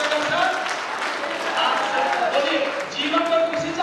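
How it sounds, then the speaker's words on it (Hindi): A seminar audience applauds, a dense wash of clapping hands that holds steady for a few seconds. "तो एक बार मैं चाहूंगा शानदार ताली बजाने के लिए"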